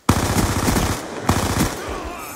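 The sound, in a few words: MP7 submachine gun firing in a video game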